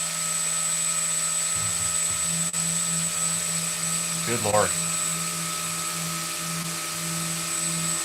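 An FLSUN S1 3D printer runs loudly with a constant whirring, fan-like drone and a steady hum; a person briefly speaks over the noise.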